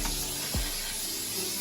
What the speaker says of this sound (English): what we're going to do to our pound cake pan here is to spray it with some Pam baking spray